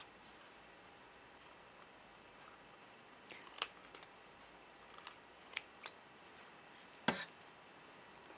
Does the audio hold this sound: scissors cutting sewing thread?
yes